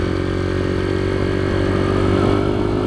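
A highly modified Kayo MR125 dirt bike engine drones loud and steady at a kart track, a sustained buzzing note that swells slightly toward the end.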